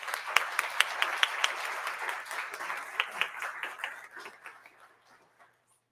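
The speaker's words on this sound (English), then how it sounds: "Let's give him a round of applause." Audience applause for a guest speaker at a school district Red Ribbon breakfast, a crowd clapping steadily with a few sharper claps, then thinning and fading out over about five seconds.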